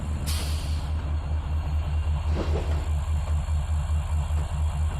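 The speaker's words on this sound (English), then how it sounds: "The old rumble of the engine." Low, steady diesel locomotive engine rumble from the Trainz 2019 train simulator, a continuous idling drone held at an even level throughout, with a brief hiss of air near the start.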